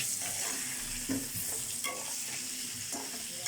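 Potatoes with turmeric frying in a wok, a steady close sizzle with faint stirring scrapes now and then, no voices.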